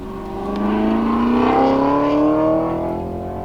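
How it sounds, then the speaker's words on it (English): A Jeep Wrangler JK engine accelerates, its tone rising steadily and swelling louder before easing off, heard alone without talk. "That's kind of what it's like to accelerate in a JK"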